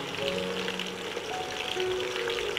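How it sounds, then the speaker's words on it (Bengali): Chicken pieces fry lightly in oil for a Bangladeshi chicken roast, giving a steady soft sizzle with faint crackles and no talk over it. "এগুলো একটু হালকা ভেজে নেব, বেশি বাজব না, বেশি বাজলে শক্ত হয়ে যাবে"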